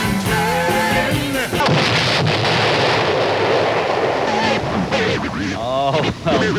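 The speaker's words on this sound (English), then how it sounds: "We've evidently upset the cannon this morning." Booming sound-effect explosion of the 'magic cannon' on a 1970 KLIF Dallas morning radio show, a loud sustained blast that follows singing, with the broadcast staying loud throughout.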